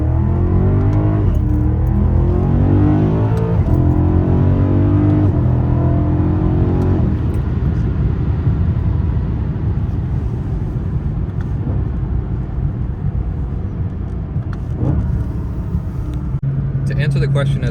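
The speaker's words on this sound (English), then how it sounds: "So why don't we go for a nice little back roads drive on a nice Sunday" A BMW E92 M3 drives along back roads on a sunny day, heard as a loud, steady engine and road drone from inside the car for the whole stretch.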